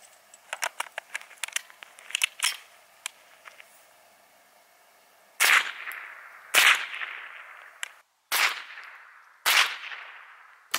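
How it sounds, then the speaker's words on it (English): Sharp .22 long rifle shots from high velocity Aguila rounds fired into a hay bale outdoors, several quick light cracks at first, then four louder, evenly spaced reports that each ring out with a short decaying tail. "we're going to move back to the .22 long rifle using the same Aguila high velocity rounds"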